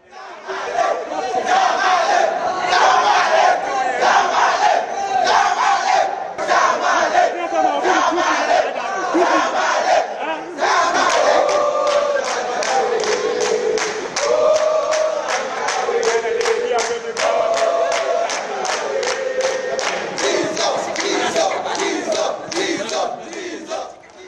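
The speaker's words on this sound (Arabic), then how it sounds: "الجمهور الغني دخل الاستاد وبيشجع لعيبه نادي الزمالك" Ghanaian football fans packed into a stadium for Zamalek's training session chant and cheer loudly and continuously, with rhythmic clapping and massed voices rising and falling throughout.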